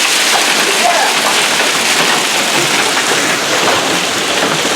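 Hail pelting down during a severe hailstorm in Ozark, Missouri, a dense, continuous roaring patter of stones striking surfaces close by, loud and steady throughout with no break.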